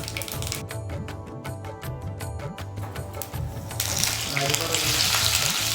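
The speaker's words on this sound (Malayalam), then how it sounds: "അത് എണ്ണ ഒഴിക്കാം. മസ്റ്റർഡ് സീഡ്സ്, റെഡ് ചില്ലി ഇടണം." Hot oil crackles and spits with rapid popping bursts as mustard seeds go in, then a louder, hissing sizzle swells as red chillies are added to the pan.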